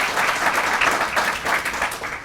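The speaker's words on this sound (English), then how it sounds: "I think that's absolutely applause." Steady audience applause fills the room at a live homecoming announcement for clinic support, dense continuous clapping held at an even level throughout.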